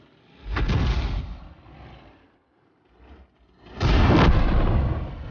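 Artillery fire in the World of Tanks video game: two heavy booming blasts a few seconds apart, each with a rumbling tail, the second louder and longer, with a faint thud between them.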